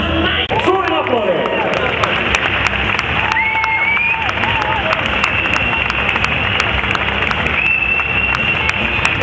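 A crowd at a fitness model contest claps loudly and continuously, dense steady applause with some cheering mixed in, and no one speaking.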